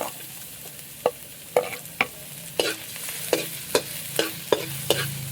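Garlic sautéing in a hot pan for pork kaldereta, a soft steady sizzle broken by about a dozen sharp scraping stirs of a utensil against the pan, close and moderately loud, with no talking.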